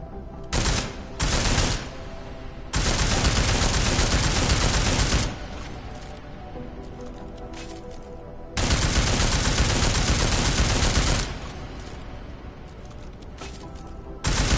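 Sustained automatic gunfire pours into an armored target in Deus Ex: Mankind Divided, coming in a few short bursts and then two long, loud continuous volleys separated by quieter gaps, with no talking over it.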